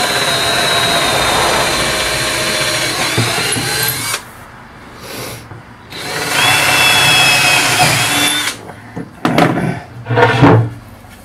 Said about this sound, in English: I marked out the 4 holes, so I just drill.